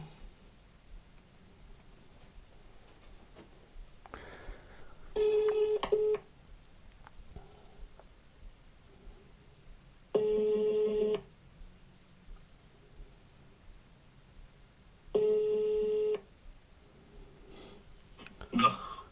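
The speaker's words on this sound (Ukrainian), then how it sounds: "Телефонуємо переможцю." Telephone ringback tones while calling a prize winner: three loud, steady one-second tone bursts spaced about five seconds apart, with quiet breathing and faint background sounds between them.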